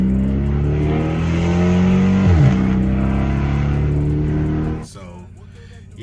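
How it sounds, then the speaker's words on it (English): A 2006 Dodge Charger SRT8 fitted with a Ford Mustang GT exhaust revs up with a deep, loud engine roar that climbs in pitch, dips and holds, then drops off sharply near the end. "it still has that whip sound when you get on this"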